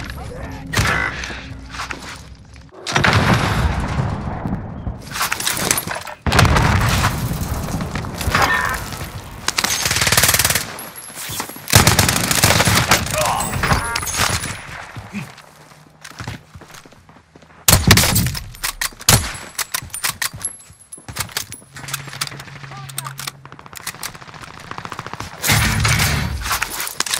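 Gunfire in the video game Call of Duty: Modern Warfare, loud bursts and crashing impacts in irregular clusters separated by short quiet gaps, with brief in-game voices.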